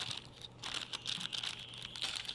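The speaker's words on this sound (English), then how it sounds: "Okay, so get the plastic bag open." A plastic bag being torn and pulled open during the unboxing of a Chinese 360-degree car 3D camera, giving a quiet, continuous crinkling and rustling for a couple of seconds under a low steady hum.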